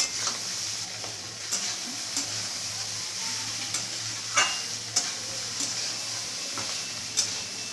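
Cooked rice is stirred in a frying pan over a steady low sizzle, with a spatula scraping and tapping at irregular intervals, close by.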